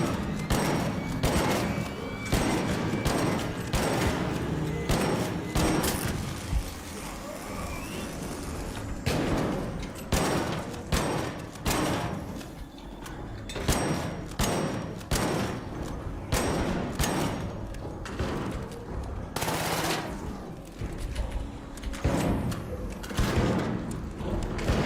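Rapid bursts of gunfire from the video game ARC Raiders, sharp repeated shots in irregular volleys across the whole stretch, loud and close with a few brief pauses between clusters.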